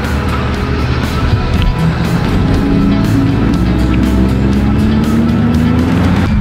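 A Corvette sports car pulls away with a steady, loud engine drone whose pitch rises gradually as it accelerates, continuous throughout with no talking.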